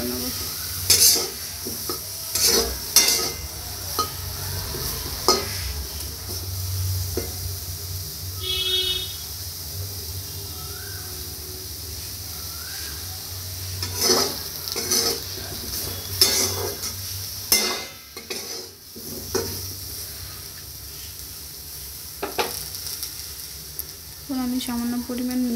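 Turmeric, cumin, coriander and chili powder being stir-fried in a pan for a potato, pointed gourd and soya chunk curry, with repeated scraping and stirring strokes of a utensil and a soft sizzle throughout, a voice talking faintly at times.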